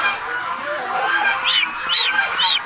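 A goose-like bird honks three times in quick succession near the end, each call nasal and fairly loud, over steady outdoor background noise in a garden nursery area.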